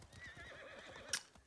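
A horse whinnies in the Ghost of Tsushima video game, a short neigh rising near the end over steady clip-clop hoofbeats and low game ambience.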